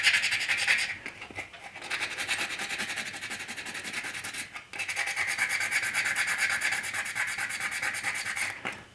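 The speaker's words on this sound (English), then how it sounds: "I think it's easier to sand them off than to fill them in." Sanding a factory-primed 1/4 scale Spiderman figure to remove a relief spider web, a steady close rasping scrub with short pauses between strokes.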